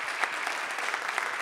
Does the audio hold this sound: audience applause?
yes